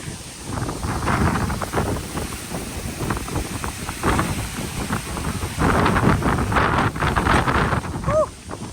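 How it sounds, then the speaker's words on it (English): Strong wind buffets the microphone at Sipiso-Piso Waterfall in North Sumatra, a loud, steady roar rising in gusts, with a brief whistle-like tone near the end. "the wind's so strong"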